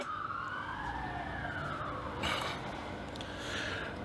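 A police car siren wails in a long, rising and falling sweep, steady and fairly loud against a constant background hum, with no talking.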